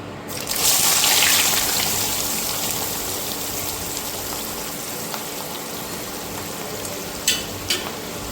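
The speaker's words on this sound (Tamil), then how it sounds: "இப்போ வந்து நறுக்கி வச்சுருக்கிற வெங்காயத்தை வந்து ஃப்ரை பண்ணிக்கலாம்." Chopped onions sizzle and crackle steadily in hot oil in a pan, a loud close frying hiss with a couple of sharp clinks near the end.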